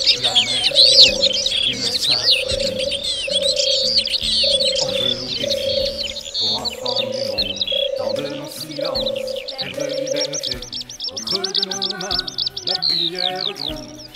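Birds call and chirp outdoors in the Plaines-Villes area of Ploufragan, Côtes d'Armor, with a repeated low cooing note under brighter, busy chirps throughout.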